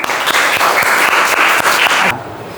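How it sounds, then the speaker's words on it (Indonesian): Listeners at a teacher-training session at UIN Palangka Raya clap in a loud, dense round of applause for about two seconds before it cuts off abruptly. "Oke, berikan tepuk tangan."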